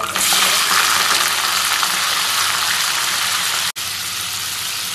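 Chicken pieces hit a hot pan and sizzle loudly and steadily at close range, a dense continuous frying hiss with one brief break near the end.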